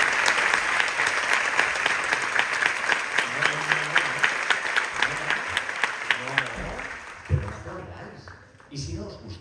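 An audience claps steadily at a live talk, the dense applause holding loud and even for several seconds before thinning out and fading near the end.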